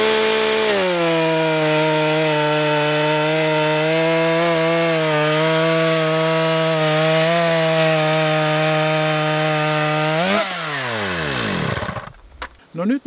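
A battery-powered chainsaw cuts steadily through wood during a cutting-power test, its loud, even whine sustained for about ten seconds before the motor winds down and stops.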